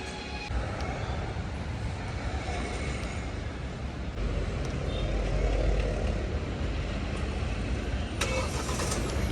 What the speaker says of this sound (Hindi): मैंने होल्ड का बटन प्रेस करा फॉर अप्रॉक्सीमेटली 7 सेकेंड्स या 5 सेकेंड्स और कार ऑन हो गई है।